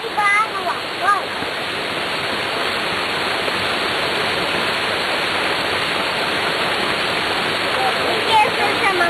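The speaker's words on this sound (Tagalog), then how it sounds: "At ang waterfalls na yan, pakibigyan." A waterfall roars loudly and steadily throughout, a dense constant rush close by, with brief birdlike chirps and faint voices near the start and end.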